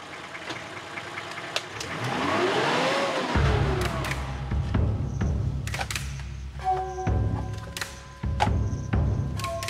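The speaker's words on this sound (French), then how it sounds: "L'engin de 2 tonnes reste rivé à la piste, quel que soit le pilote." A two-tonne vehicle stuck on a rough mountain track in Nepal, its engine idling and then revving hard in sustained, labouring bursts, loud and close, with knocking and clattering mechanical noise throughout.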